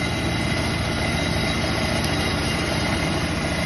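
A 16 HP rotavator cultivator engine runs outdoors with a loud, steady, throbbing drone and a dense low rumble that holds constant throughout.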